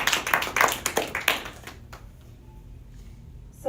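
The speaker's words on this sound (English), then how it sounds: "Let's give them a big round of applause." A small gathering at a Sunday temple program claps briefly, with sharp, fairly sparse hand claps for about a second and a half before fading to near silence.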